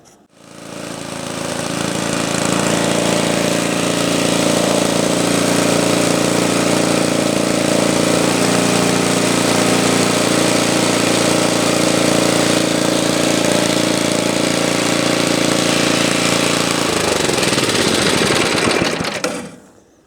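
A restored Webb cylinder lawn mower's petrol engine runs hard and steady for about twenty seconds, a loud close rattling drone while mowing, its pitch dropping and sputtering as it shuts down near the end.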